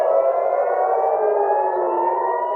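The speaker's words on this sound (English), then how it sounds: "Sirens ring out in Tel Aviv." A wailing air raid siren in Tel Aviv holds a steady, loud rising-and-falling tone throughout, with a faint background rumble beneath it.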